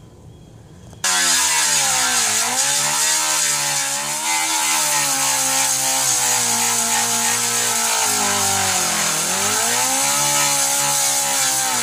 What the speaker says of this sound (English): We're just going to go ahead and grind that paint so we could get some bite for the nails to pull it out.